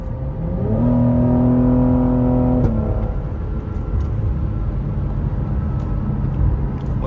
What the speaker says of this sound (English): A little bit of pop from the exhaust.